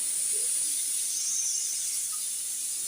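A steady, loud hiss of steam escaping from a pressure cooker whistle while cooking chicken biryani, continuous and high-pitched without pause.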